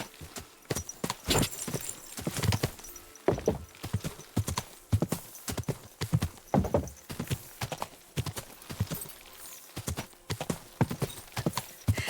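Horse hooves clip-clop steadily on the ground in the video game Kingdom Come: Deliverance, an even close rhythm of hoofbeats with a brief neigh mixed in and no talk.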